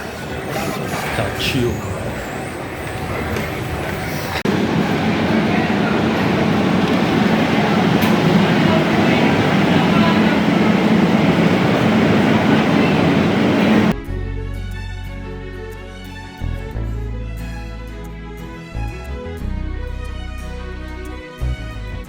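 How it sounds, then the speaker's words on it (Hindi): Metro train at Barcelona Sants railway station, with a steady loud rumble of the train running for most of the clip before it gives way to a quieter, tonal passage toward the end. "एयरपोर्ट से डायरेक्ट मेट्रो चलती है इनके मेन रेलवे स्टेशन तक"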